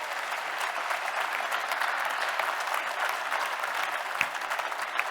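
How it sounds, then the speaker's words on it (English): A kickoff event audience claps their hands together in a full, steady round of applause that carries on evenly throughout, loud and close. "Alyssa Hall, please clap your hands together"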